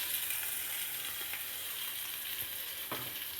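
Freshly ground curry paste fries in a pan for a fish curry, making a steady, bright, hissing sizzle. A single soft utensil knock comes near the end.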